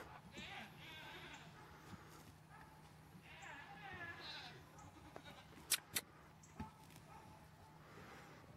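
Goats bleat in a few faint, drawn-out wavering calls from some distance, mixed with low rumbling background noise, a couple of sharp knocks, and people talking.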